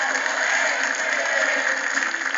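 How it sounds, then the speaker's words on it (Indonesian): Audience at a school quiz competition applauding team C after a correct answer, a dense, even patter of clapping from a sizable group, heard alone. "Tepuk tangan untuk tim C."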